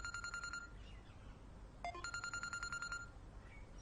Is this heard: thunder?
no